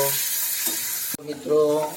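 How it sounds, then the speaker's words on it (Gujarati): Constant hiss of radish greens frying in oil, with a sharp clatter partway through and a faint voice-like hum over the sizzle. "હવે આપણે તેને બરાબર મિક્સ કરી લઈએ અને થોડીક વાર સુધી તેલની અંદર વરાળથી તળવા દઈશું"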